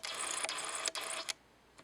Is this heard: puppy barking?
no